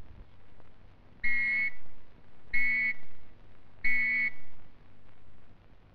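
Three steady, shrill whistle blasts sounded as a fallout warning, of equal length, evenly spaced with short gaps between them, loud and clear against a quiet background.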